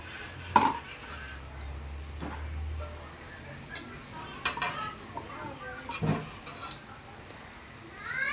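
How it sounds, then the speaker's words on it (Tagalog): A utensil stirring kikiam sauce in a frying pan, with soft scraping and a few sharp clinks of metal against the pan over a low sizzle, close and fairly quiet, without speech. "Yan, imimix lang natin."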